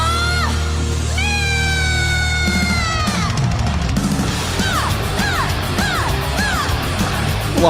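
A live concert crowd screams and yells in a loud, sustained roar, with rising whoops and shrieks sweeping through it close to the recorder.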